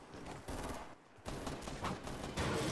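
Shotgun blasts from a double-barrel shotgun in the video game Fortnite, a few loud broadband bursts at irregular intervals, close and sharp, with no talking.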